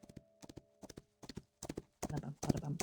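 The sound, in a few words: horse hooves clip-clopping in the video game Love and Deepspace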